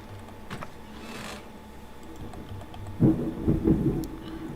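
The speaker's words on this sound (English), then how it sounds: "Oh yeah, that was thunder. That was definitely thunder." Rumbling thunder from a storm in the video game Medieval Dynasty: a low roll builds, then a louder crackling burst about two-thirds through, with faint rain-like hiss underneath and no talking.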